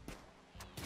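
Gunfire in a video game during a firefight aimed at a gazelle, several quick faint bursts of shots spaced apart, sounding distant and low in level.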